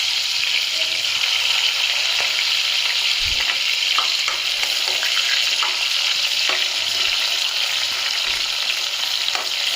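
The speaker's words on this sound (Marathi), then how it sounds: "सगळ्यात आधी टाकते कांदा. हो, तेल खूप टाकलं आहे." Chopped onion fries in a generous amount of oil at the start of a crab curry, producing a continuous, loud, dense sizzle with occasional soft stirring bumps.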